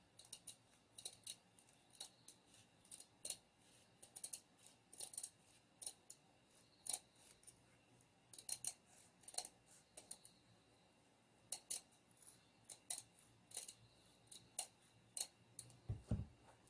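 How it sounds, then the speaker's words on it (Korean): Scissors cut the seam allowance on ramie fabric while a hanbok jacket is sewn. Quiet, close snips repeat irregularly throughout, some in quick pairs, with no talk. "이제 시접을 잘라 보겠습니다."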